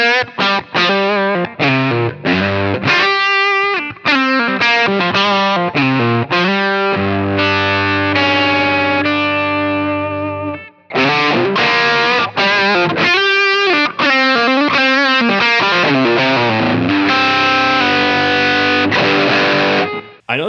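An electric guitar through a Fender Prosonic amp on a high-gain setting plays loud, heavily distorted chords and riffs without a break, with a long sustained chord in the middle.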